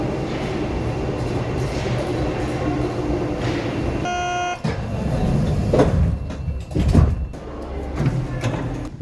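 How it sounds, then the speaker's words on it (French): A Paris metro train pulls into the station and runs on, with a steady rumbling roar, a brief high electronic chime partway through, and heavier clunks and rattles of the cars near the end. "on prend le métro, il va arriver dans 2 minutes"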